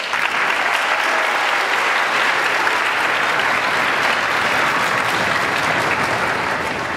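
Audience at a school strings concert applauds steadily, a loud, even wash of clapping that fills the full seven seconds without letting up.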